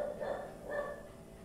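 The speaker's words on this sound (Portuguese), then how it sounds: "Eu vou fechar a porta aqui porque o Yoda tá latindo igual do louco." An indoor dog barks twice, a pair of short, moderately loud woofs in quick succession that fade into quiet room tone.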